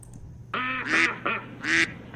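Duck quack sound effect, with two loud nasal quacks after a short quiet lead-in, each breaking into a clear double honk, heard alone.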